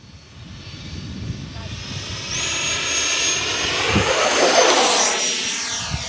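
An FMS F-18 70mm EDF model jet with takeoff flaps deployed roars louder as it accelerates and climbs away, a steady high-pitched turbine whine building over several seconds, with a voice talking over it.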